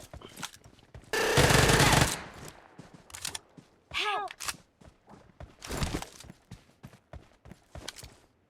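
Bursts of video game gunfire in a zombie house mode, including a long rapid volley and several short shots, with clicks and effects between them.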